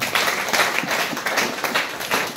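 A church congregation claps together in praise during a Swahili-language sermon, a dense, steady patter of many hands filling the hall at close range, with no speech over it.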